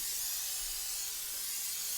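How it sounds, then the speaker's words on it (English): A short, steady aerosol hiss of cooking spray onto a cake pan, close and continuous for about two seconds. "just spray your pan"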